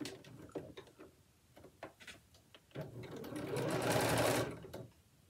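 A sewing machine stitches binding onto a shirt cuff, starting with short stop-start bursts and then running in one longer steady, rapid burst before stopping, close and fairly quiet.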